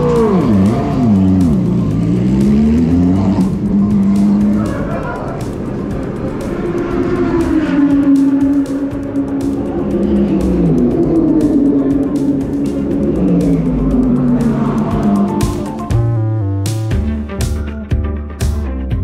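GT race car in the Paul Ricard pit lane heading out for free practice one, its engine droning and revving steadily and loudly close by, with sharp gear-change bursts near the end.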